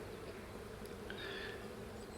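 Honey bees buzzing at the hive, a soft continuous hum that stays faint and steady throughout with no other sounds.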